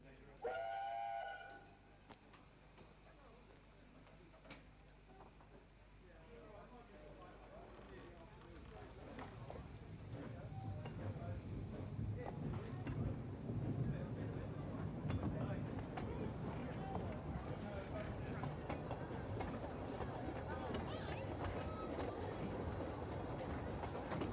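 Talyllyn Railway train departing, with a low rumble that builds steadily into a continuous rolling, clattering roar of the train pulling away, after a brief tonal sound at the start and some quieter moments.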